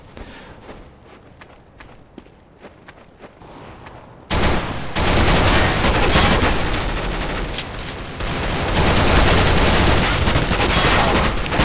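A fully automatic pistol in the CS:GO video game, during deathmatch practice, fires as a loud, dense, sustained stream of shots that bursts in suddenly after a few seconds of quieter in-game sound and keeps hammering to the end.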